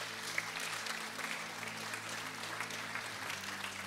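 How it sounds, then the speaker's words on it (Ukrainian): An audience applauds in a church, steady clapping held at an even, moderate level for a few seconds with no talk over it. "А ми будемо аплодувати, підтримувати цих людей."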